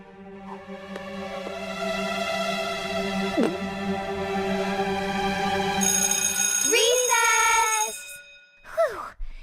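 A school bell rings in South Park: a sustained, buzzing bell tone holds for several seconds, then cuts off with a brief sighing voice and a short final chime.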